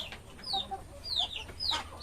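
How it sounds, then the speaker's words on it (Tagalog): Hens clucking nearby in a farmyard: a few short, uneven calls repeat over about two seconds, clear and close, with no one talking. "Iwan yung mga manok dyan."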